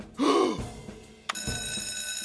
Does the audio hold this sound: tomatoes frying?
no